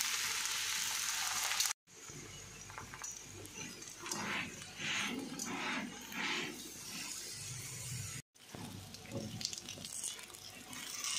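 Mooli paratha frying in oil on a pan gives a continuous hissing sizzle, close and moderately loud, with textured bursts of crackle and two brief dropouts in the sound.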